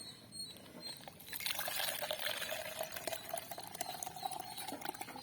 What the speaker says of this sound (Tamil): இப்போ இது மேலோட்டமாக நான் சாய்ச்சிடுறேன்